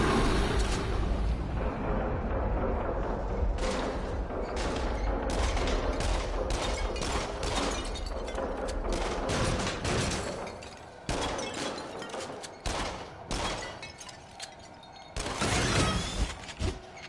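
Bursts of gunfire ring out in a scary video game, dense loud volleys packed together over the first half, then breaking into sparser separate shots and cracks toward the end.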